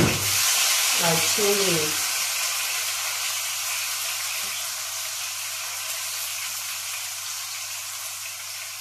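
An onion frying in a pan gives off a steady, broad sizzle that holds throughout, with a brief spoken phrase near the start.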